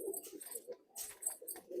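Soft, close coos of Madrasi pigeons in short repeated phrases, with brief pauses between bursts.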